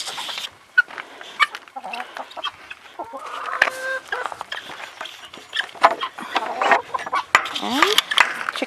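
Chickens cluck and squawk in a busy farmyard alongside guinea fowl, with near, irregular calls piling over one another throughout and a few louder bursts toward the end.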